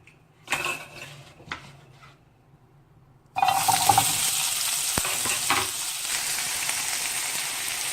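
Ivy gourd (kovakkai) hits hot oil and erupts into a loud, bright, continuous sizzle after a few quiet clinks and scrapes, with stirring noises running under the frying.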